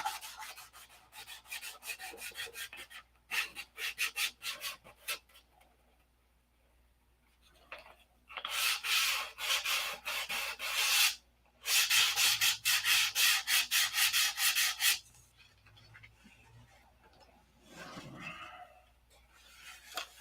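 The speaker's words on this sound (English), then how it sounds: "You stop sanding before you sand it all the way through." A half-size Cobra model airplane hand-sanded with sandpaper on a wooden surface, giving close, rhythmic rasping strokes in several bursts separated by pauses and faint background sounds.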